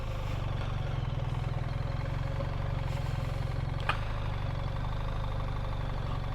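A BMW R 1300 GS Adventure motorcycle moves at slow speed through a tight turn while braking and adding a little throttle. Its engine gives a steady, close, low throbbing drone, with one brief click partway through and no talk.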